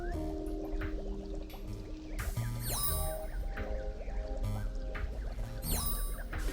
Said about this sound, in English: You're making some great soapy water, but it's just going down the drain